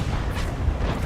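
A tank cannon shot in World of Tanks, from a tier 8 German light tank battle: a deep, rumbling low boom that holds steady through the short moment, with no voices over it.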